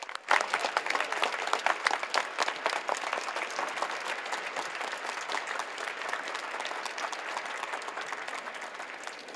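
A crowd in a vaccination hall breaks into sustained applause for Iceland's chief epidemiologist, Þórólfur Guðnason, the dense clapping starting abruptly and staying loud and even for several seconds.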